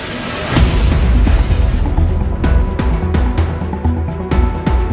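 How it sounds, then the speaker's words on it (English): A train slams into a car stuck on a level crossing. A loud, continuous roar runs throughout, broken by a series of sharp, heavy impacts in the second half. "before they know it, the train comes crashing in."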